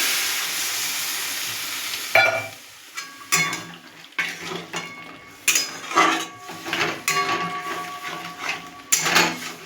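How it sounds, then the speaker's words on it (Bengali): Water poured into a pan of frying spiced egg and bori curry, seasoned with meat masala, sets off loud bursts of hissing sizzle that rise and fall in close, uneven surges, with no talk. "আমি এর মধ্যে দিয়ে দেবো পরিমাণ মতো জল, পরিমাণে জল দেবো।"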